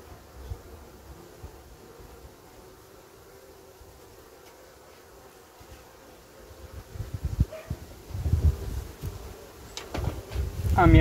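Honeybee colonies humming around hives being wrapped for winter after an amitraz treatment, a low steady buzz with faint rustling and handling noises building louder toward the end.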